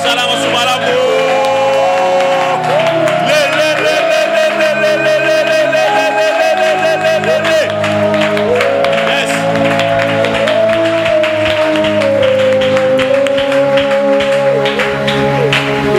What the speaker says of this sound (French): Toutes ces acclamations, c'est à ton honneur.